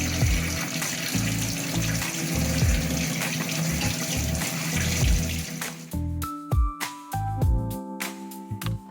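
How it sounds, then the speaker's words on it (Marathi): Running tap water pours steadily over amla, turmeric and ginger being washed. The flow splashes continuously at close range, then breaks into uneven gushes and drips toward the end, with no voices. "प्रथम मोठे आणि कोणताही डाग नसलेले आवळे स्वच्छ धुवून घ्यावेत"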